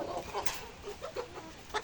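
Short clucks from 110-day-old pullet layer hens at a farm, several soft bursts scattered irregularly, fairly close, with a faint voice murmuring in the background.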